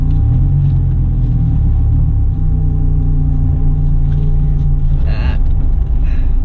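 A Dodge Viper SRT TA2.0 race car on a track in Phoenix, Arizona, heard from inside: a loud, steady low engine drone and rumble with a brief higher burst near the end.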